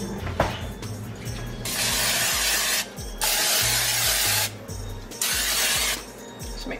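Cooking spray hisses into a baking pan in several sustained bursts, each lasting around a second or more with short pauses between, close and fairly loud in a home kitchen.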